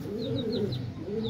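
Pigeons at a Lahore pigeon loft coo in a soft, continuous, rolling murmur, with a few faint chirps layered above the steady cooing.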